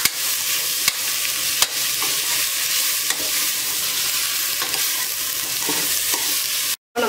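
Grated carrot and coriander leaves sautéing in a pan for a carrot rice dish, a continuous close sizzle broken by repeated spoon scrapes and taps as it is stirred, with no voices.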